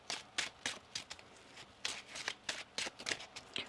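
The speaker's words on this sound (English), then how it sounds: "One more shuffle here." A deck of tarot cards is shuffled close by in quick, crisp riffling bursts, one after another in an uneven rhythm, with no talking.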